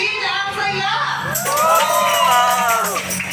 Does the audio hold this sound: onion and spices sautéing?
no